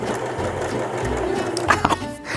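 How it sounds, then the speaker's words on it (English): Sewing machine running steadily as stretchy fabric is fed through without stretching, a close continuous mechanical whir with a few sharper rattles near the end and no talk. "But when you're sewing it, don't stretch it."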